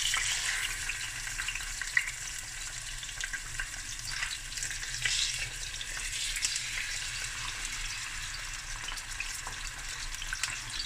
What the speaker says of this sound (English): So I'm going to fry this for a couple of minutes on each side